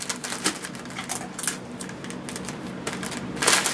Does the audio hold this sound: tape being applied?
yes